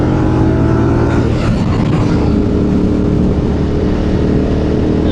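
A Ducati Multistrada motorcycle engine revs hard up close, a loud throaty roar rising and holding steady with a rough, rumbling exhaust note.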